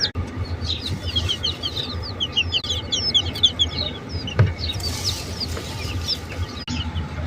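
Hens and young chicks in a coop cluck and cheep steadily at close range, with a brief wing flutter partway through and no talking.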